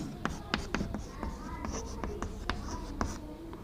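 Trigonometry being written on a classroom board, with sharp repeated taps and strokes of chalk or marker at an irregular pace, close, over a low roomy background with faint voice murmur.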